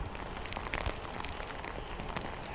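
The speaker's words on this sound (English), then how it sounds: "the wind and the rain have definitely picked up" Heavy rain and gusting wind as Hurricane Idalia makes landfall, a dense, continuous roar of downpour beating on surfaces with wind buffeting throughout, loud and close.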